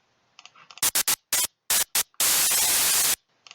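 Synthesized noise bursts from a coded software synth, several short sharp hiss bursts in a rhythmic pattern and then one longer sustained burst, loud against near silence with faint tones between.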